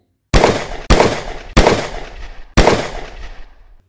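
Four loud, sharp gunshots in a western film, fired in an uneven sequence with short ringing decays between them, close and clear with no talk over them.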